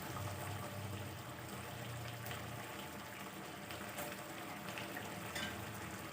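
Spice paste for spicy coconut-milk pindang fish cooking in a pan, a soft continuous sizzle and bubbling, faint and steady throughout.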